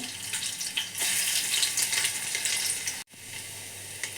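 Crushed garlic and ginger sizzling in hot oil for palak paneer, a loud steady fry hiss that cuts out abruptly for a moment and resumes a little quieter.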